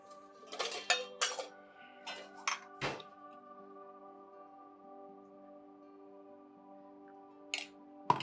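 Idli being set into a metal bowl at home: a few sharp ringing clinks and knocks of utensil on bowl, with a resonant hum lingering between them. A final pair of clinks comes near the end. No one speaks.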